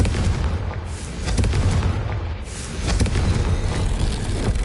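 Confringo fire spell explosion in the Hogwarts Legacy video game: a sustained, loud, rumbling blast with heavy low-end roar and a couple of sharper bursts layered over it, with no talking.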